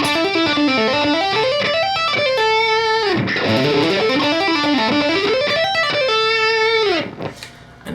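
A fast, distorted electric guitar lick in EADGCF tuning runs rapidly up and down a pentatonic pattern in repeated sweeps, then breaks off near the end.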